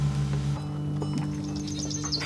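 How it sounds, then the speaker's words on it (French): Rove goats on a Provençal farm in the Alpilles, heard as a short, close bleat followed by fainter bleats and rustling from the herd. "C'est dans ce cadre idyllique que vivent une centaine de chèvres du Rove et leur éleveuse, Marielle."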